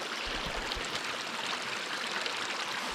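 Water from a mountain stream flows steadily during a hike on Réunion island, a continuous close rushing and babbling with no voices.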